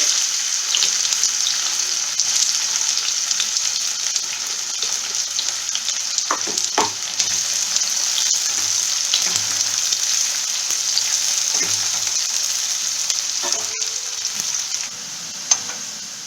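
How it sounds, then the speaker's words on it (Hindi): Onions frying in mustard oil until brown, a steady close hiss of sizzling with a few brief clinks and scrapes of stirring, no talking. "अब हम इस ऑयल में प्याज बिल्कुल ब्राउन होने तक फ्राई कर लेंगे।"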